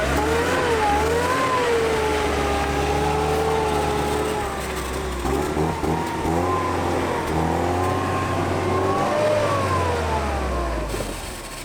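Mercedes CLK engine revving hard while the car sits stuck in reverse with its wheels spinning, a loud, continuous drone that rises and falls in pitch throughout.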